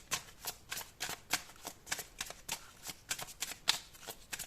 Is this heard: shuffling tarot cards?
yes